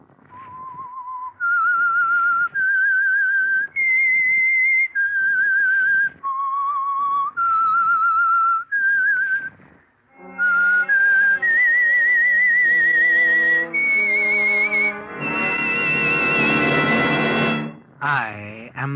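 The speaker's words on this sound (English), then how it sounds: "That whistle is your signal for the Signal Oil program," A lone whistled theme melody opens The Whistler radio mystery program, sponsored by Signal Oil: a clear, close series of sustained whistled notes rising and falling for about ten seconds, followed by a swelling orchestral music sting.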